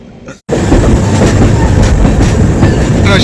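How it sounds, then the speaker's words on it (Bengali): An express train from Howrah to Haridwar rumbles loudly along the tracks while rounding a curve, with steady clattering wheels, close by, after a brief quieter moment at the start. "সুন্দর কার্ভ নিচ্ছে ট্রেনটা"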